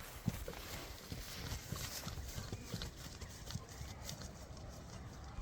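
A horse, a young animal suited to a child rider, trots along with steady rhythmic hoof clip-clops under a continuous outdoor wind-like hiss, fairly close and moderately loud.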